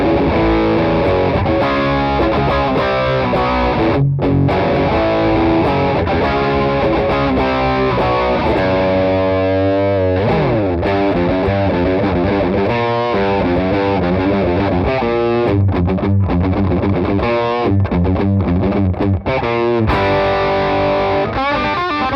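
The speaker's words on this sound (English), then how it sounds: "this is going to get us the starting of an 80s rock style guitar tone" Electric guitar played through a Chevtone Messiah Drive overdrive pedal at half gain, giving a crunchy 80s rock tone; loud, continuous riffs and chords with distinct picked notes and slides, no talking.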